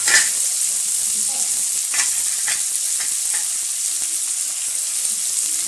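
Chopped onion hits a hot pan and fries with a steady loud sizzle, with a few scraping stirs of a spatula near the start and spaced through the clip.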